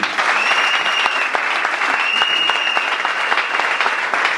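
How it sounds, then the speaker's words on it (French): Sustained applause from an audience at a formal gathering in Congo, dense and steady clapping at close range throughout, with a faint tone riding over it. "Vos applaudissements, s'il vous plaît."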